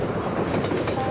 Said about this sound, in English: There's a fucking train coming.